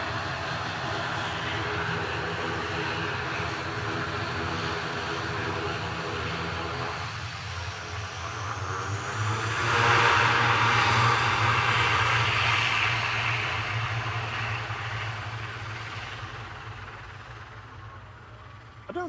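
A Loganair ATR 72-600 turboprop on flight 694 to the Isle of Man gives a steady, close engine drone with a propeller hum, swelling louder midway and then easing off slightly.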